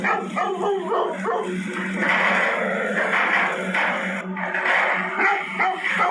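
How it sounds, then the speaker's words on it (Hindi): A dog barks repeatedly behind the bars of a gate, trying to push its way out, loud and close, with a steady run of yaps and whimpering yips and no voices. "भौंकता हुआ वो कुत्ता गेट की सलाखों से बाहर आने की कोशिश कर रहा था।"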